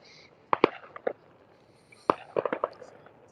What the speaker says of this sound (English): With the sound of fireworks.